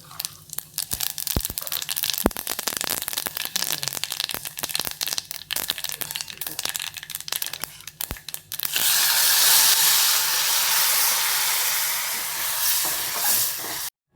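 Cumin, mustard seeds and a little sesame hitting hot oil, first a dense run of sharp popping crackles, then a sudden steady loud sizzle that holds and slowly eases.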